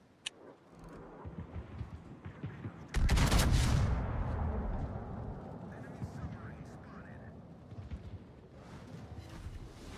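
Naval battle in World of Warships with a dense, continuous stream of gunfire: a heavy booming barrage erupts after a few seconds and rolls on under rumbling engine-like noise, loud and sustained.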